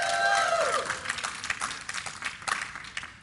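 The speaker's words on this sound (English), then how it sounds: "You guys want to cheer for CLG and see them win? Let me hear you guys cheer in the audience." An esports event audience cheers and applauds during a League of Legends semifinal, a loud crowd roar with whoops and dense clapping that gradually thins out and fades.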